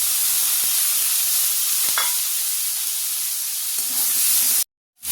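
Onion sizzles in a pan after garlic, giving a loud, continuous frying hiss with a few faint stirring clicks before the sound cuts off abruptly near the end.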